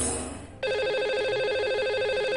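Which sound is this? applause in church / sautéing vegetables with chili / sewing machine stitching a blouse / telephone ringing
telephone ringing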